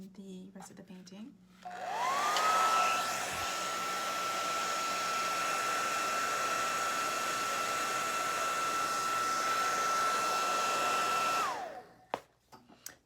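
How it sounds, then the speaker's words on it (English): A blow dryer runs steadily for about ten seconds, drying a watercolor painting, with a rising whine as it starts and a falling one as it shuts off, loud and close, with brief sounds before and after. "Now I'm going to go and do a final blow dry before we start working on the rest of the painting."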